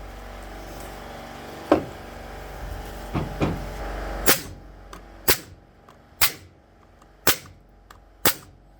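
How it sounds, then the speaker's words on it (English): A Ryobi Airwave framing nailer driving nails into hardwood, several sharp, loud cracks spaced about a second apart, each with a short ringing decay, preceded by a few softer knocks and handling sounds. "the 2 nails I just fired into hardwood"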